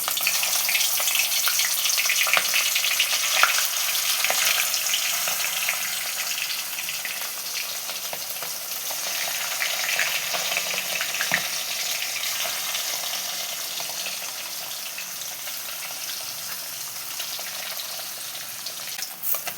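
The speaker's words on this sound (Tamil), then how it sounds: "எண்ணெய் காஞ்சதும் போட்டு பொரிச்சு எடுக்கணும்" Anchovies fry in hot oil for a fish curry, a loud, dense and continuous crackling sizzle close by that holds steady throughout with no voices.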